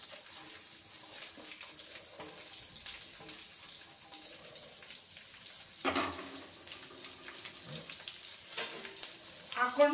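Raisins, cashews and fennel roasting in a pan, giving a quiet, light sizzle with scattered ticks and scrapes and a louder clatter partway through, heard close with faint background noise.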